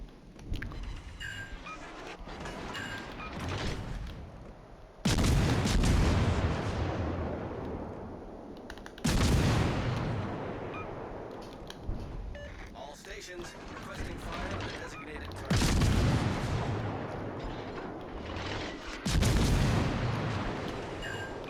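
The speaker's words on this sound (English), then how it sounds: "So the Königsberg's shooting at me instead of Siroco, which is good" Big naval gun salvos from a Königsberg cruiser in a video game sea battle, several heavy booming blasts spaced seconds apart with rumbling tails, under steady background noise and occasional talk.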